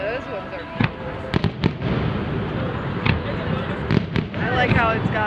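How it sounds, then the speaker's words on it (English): Several fireworks from a boat display pop in quick irregular bursts over a roadside crowd, the sharp cracks mid-distance and moderately loud, with people chattering throughout. "blocks the fireworks."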